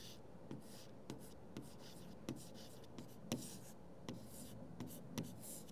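Marker or pen writing on a board in a quiet room: soft scratchy strokes with regular sharp taps as each character is started, close and faint, without talk.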